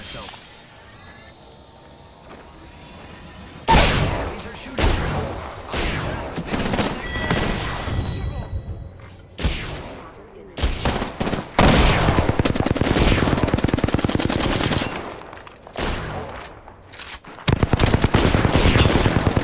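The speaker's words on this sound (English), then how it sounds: "Shooting." Heavy gunfire from Apex Legends, with long rattling automatic bursts and scattered single shots, loud and close, broken by short pauses while players talk between volleys.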